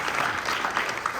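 An audience at a conference session on social enterprises breaks into steady, moderately distant applause throughout the brief moment, with no talk over it.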